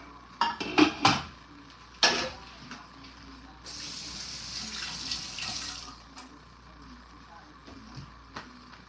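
A cup of water poured into a cooking pot with beef chunks, sausage and vegetables in red sauce, a steady splashing pour after clinks of pans and utensils, close, with speech nearby.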